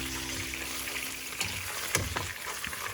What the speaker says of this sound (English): So I'm just pan-searing the beef ribs.